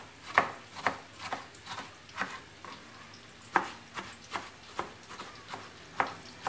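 Quick, even knife chops finely cutting tomatoes on a cutting board, close by, falling in a steady rhythm of about two per second with no talking.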